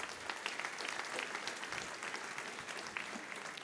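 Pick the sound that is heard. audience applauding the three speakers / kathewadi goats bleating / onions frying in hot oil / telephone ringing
audience applauding the three speakers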